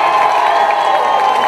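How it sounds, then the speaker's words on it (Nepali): Crowd at a Nepali political rally, CPN-UML gathering, breaking into loud sustained applause and cheering, a dense steady roar of clapping and shouts throughout, with no speech over it. "उहाँको सम्मानमा सबैले एकचोटि गडगडाट ताली बजाइदिनुहोस्।"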